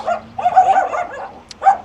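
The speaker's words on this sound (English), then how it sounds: "there's lots of dogs here as well" A dog in the Scottish Highlands gives a few short yips and barks close by, in two quick clusters with a brief pause between them.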